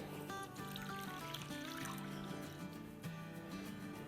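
Lukewarm milk is poured into a bowl, a faint steady trickle running for several seconds alone in a quiet kitchen.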